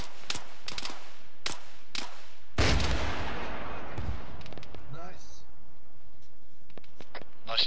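Gunfire from a night firefight in Arma 3: several sharp, separate shots crack out, then a heavy blast booms and rumbles away. Scattered shots follow, and voices come through faintly at times.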